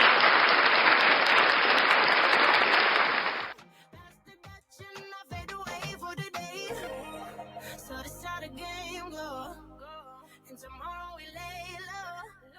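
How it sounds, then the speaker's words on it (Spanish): Loud burst of applause from a podcast's live studio audience, dense clapping for about three and a half seconds before cutting off into quieter sounds. "a ver si le puedo dar un aplauso."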